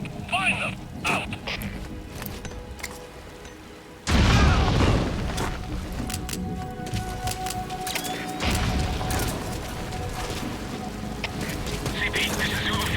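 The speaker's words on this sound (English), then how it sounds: "Heard an explosion. Location unclear." An explosion in a first-person shooter video game hits as a sudden heavy boom partway through, cutting through rumbling background noise and radio-style chatter, then fading into a long rumbling tail under continued voices.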